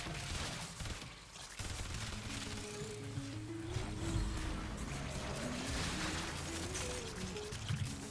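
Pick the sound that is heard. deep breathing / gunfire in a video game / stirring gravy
gunfire in a video game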